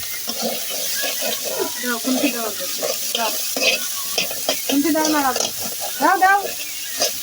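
Tilapia frying in a pan crackles and sizzles while a spoon stirs and scrapes through it, with voices talking over the cooking close by.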